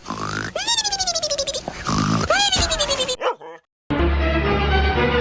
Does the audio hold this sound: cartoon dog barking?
yes